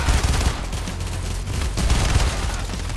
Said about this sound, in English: that guy was just using a shotgun right there